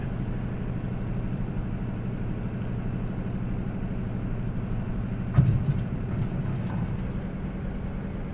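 Steady low drone of a Grumman F6F-5 Hellcat's radial engine throttled back in Microsoft Flight Simulator, a continuous even rumble with a brief clunk partway through.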